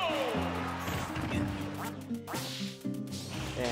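Loud, repeated quacking from the duck of Duck Hunt in a Smash 4 tournament match, mixed with game hits and thwacks, while voices commentate.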